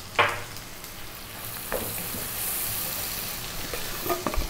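Kashmiri chili powder and turmeric frying in a pan over above-medium heat, a steady soft sizzle with occasional scrapes and taps from stirring, close by and without speech.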